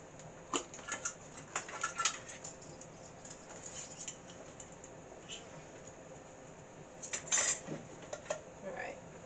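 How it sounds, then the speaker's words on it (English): A spoon stirs a pot of corn relish being prepared for canning, giving soft scattered clinks and scrapes against the pot, with a brief cluster of brighter knocks near the end and quiet gaps between. "just going to give that a quick stir so that all gets mixed in there"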